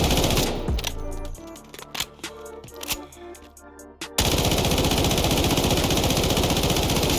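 An SG552 assault rifle in the Delta Force game fires rapid, tightly spaced bursts, loud and close, then breaks into a dense continuous stream of automatic fire with no talking.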